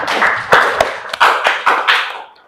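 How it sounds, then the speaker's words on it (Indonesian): A classroom of students clapping together in a rhythmic pattern, sharp close claps in quick groups separated by short pauses, loud and alone. "Tepuk tangan untuk semua"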